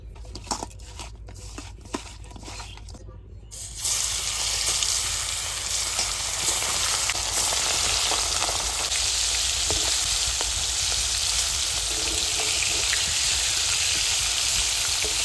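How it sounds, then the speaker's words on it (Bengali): Small river fish, salted and coated in turmeric, frying in hot oil in a kadai: a few sharp crackles at first, then a loud, steady sizzle that fills the rest of the clip, close up, with no talking. "প্রথমে ছোট মাছগুলো ভেজে নেবো"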